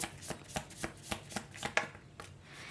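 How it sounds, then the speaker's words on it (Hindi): Tarot cards shuffled by hand in a steady run of about ten crisp riffling slaps, close and fairly quiet, with no talking. "तो चलिए शफल कर लेते हैं कार्ड्स को आपके लिए"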